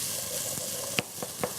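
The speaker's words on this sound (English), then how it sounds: "I really love that sizzling sound here, just makes life good." Food sizzles softly in a pan, a gentle hiss broken by a few sharp pops and spatters.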